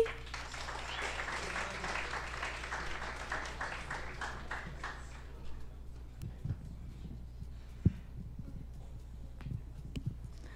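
Audience applause at a live stage event in a bistro, dense and steady for about five seconds, then thinning out into scattered claps and shuffling with a sharp knock near the end.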